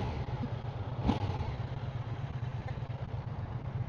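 A Triumph Tiger Sport 800 three-cylinder motorcycle engine idles with a steady low rumble and a brief clatter near the start, held close and even for several seconds.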